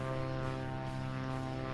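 Steady droning engine and propeller hum of a modded Cirrus SR22T propeller plane in a flight simulator game, continuous and even throughout with no voices.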